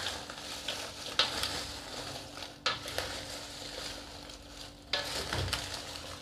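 Crispy salted mango pieces are stirred in a sugary coating in a pan over live heat, giving a continuous soft sizzle with three distinct scraping strokes of the utensil, close and fairly quiet.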